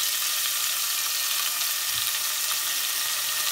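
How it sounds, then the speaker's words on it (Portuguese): Shrimp frying in hot olive oil, a loud, constant close-up sizzle with a dense hiss that holds steady all the way through, with a faint stir near the middle and no talking. "O camarão já está aqui a refogar."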